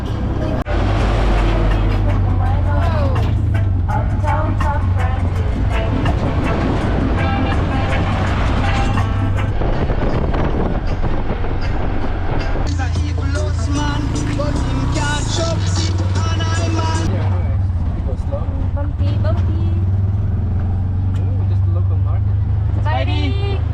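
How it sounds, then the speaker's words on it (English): A tuk-tuk drives along a rural road in Laos, its engine droning steadily and loudly throughout with road rumble, while people talk over it. "not only are we driving a tuk-tuk in the middle of nowhere"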